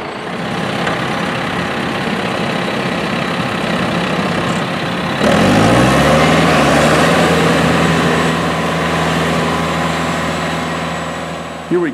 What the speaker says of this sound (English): The farm utilizes a semi-truck to bring seed totes directly out to the field.